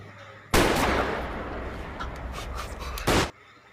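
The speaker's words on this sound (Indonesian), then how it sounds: "dua tembakan Yongab mendarat tepat di dada Chang Ho yang membuat Chang Ho tewas" Two gunshots in a Korean film scene: a loud, sharp blast whose reverberant tail decays over more than two seconds, then a second short crack.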